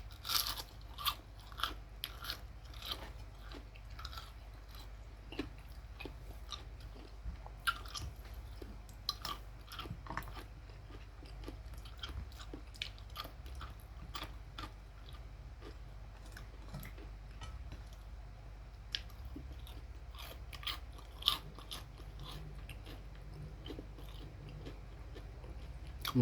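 Crunchy fried chicken skin is chewed close up, giving a quiet, continuous stream of sharp crackling bites and crunches with no talk over it.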